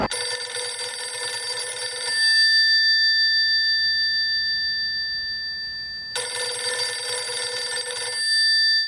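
A telephone ringing in two clear bursts of bright, buzzing bell tones separated by a pause, loud and close with no voices.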